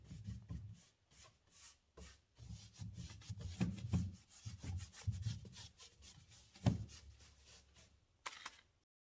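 Mind Your Own Beeswax wax finish is rubbed by hand onto a wooden piece for a cracked patina effect, giving close, uneven scrubbing and rasping strokes in irregular bursts with short pauses.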